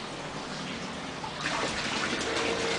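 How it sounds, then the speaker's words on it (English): Pipe water runs into a rain-harvesting container as a steady, close, hissing flow that swells and gets louder partway through, with no talking. "First, you fill with pipe water first."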